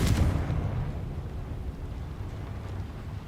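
The Confringo fire spell is cast in Hogwarts Legacy, a deep explosive boom that hits at once and rumbles away over a few seconds.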